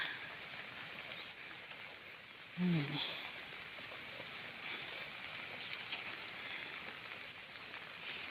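Steady, even hiss of rain falling on a surface throughout, broken once by a brief low thump partway through.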